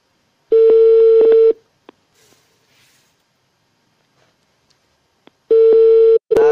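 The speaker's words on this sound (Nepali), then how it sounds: "ब्रोले फोनै काट्दै यार, एकपल्ट फेरि ट्राई गरिदिउँ।" A phone call being redialed, with a loud, steady ringback tone pulsing at the start, a long near-silent gap with faint clicks, then the same ringing tone returning close and clear.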